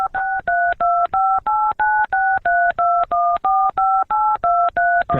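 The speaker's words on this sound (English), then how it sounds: "pressing random numbers on his phone and then hanging up" Telephone keypad buttons pressed one after another, producing a loud, evenly spaced run of about fifteen short DTMF tones with brief gaps between them, alone without any speech.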